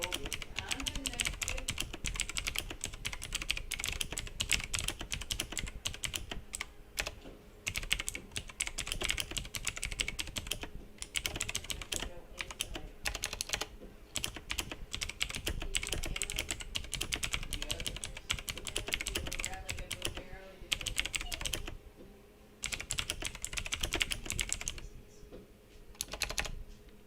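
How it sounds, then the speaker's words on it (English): Rapid clattering keystrokes on a computer keyboard run almost continuously, close and fairly loud, with bursts of fast typing broken by brief pauses and a louder flurry near the end, and no speech over them. "sorry for typing"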